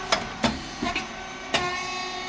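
A SYP9002 rice cake machine with a three-phase motor, pump and fan running, giving sharp mechanical clacks and pops over a steady tonal hum, heard up close.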